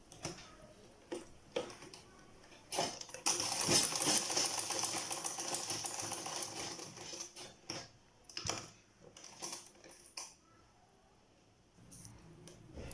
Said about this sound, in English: First, I want to quickly stitch the elastic.